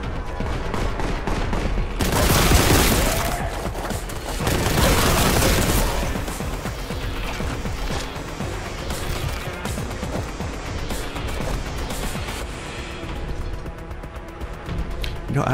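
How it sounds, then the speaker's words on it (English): Ship guns in the Warhammer 40k Boltgun video game fire in a dense, sustained barrage of booming bursts, loudest early on and then a steady rattling volley over a busy game soundtrack. "Yep, those are some ship bullets, alright."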